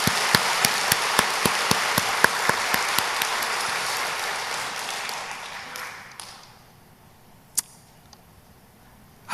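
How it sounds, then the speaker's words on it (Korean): A church congregation at a Sunday worship service claps together, a full spread of clapping with distinct sharp claps that tapers off after about six seconds, leaving quiet with a lone clap later. "우리 박수 한번 칩시다"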